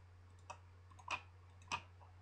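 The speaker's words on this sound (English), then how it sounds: "I use control and click the left mouse button to close the path" Three faint, crisp clicks of a computer mouse's left button while working in GIMP, spaced unevenly over a steady low hum, with no talking.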